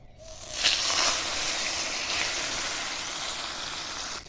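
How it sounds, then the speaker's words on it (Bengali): Fish slid into hot oil that has had a pinch of salt added, setting off a steady, close hiss that swells after the first half-second and holds evenly with no talk. "তেল গরম হয়ে গেছে এবার মাছ ছেড়ে দিচ্ছি"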